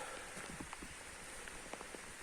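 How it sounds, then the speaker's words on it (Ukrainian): Rain falls steadily on a country garden plot with tomato plants, a soft constant hiss with scattered faint drips and patters close by, no voices. "нема змісту кропити, треба перечекати дощ"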